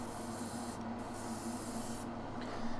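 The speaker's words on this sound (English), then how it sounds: "I'm using 20 psi with my airbrush" An airbrush running at 20 psi sprays Green Stuff World colour shift paint, a steady close hiss that continues without pause, with faint dips where the trigger eases.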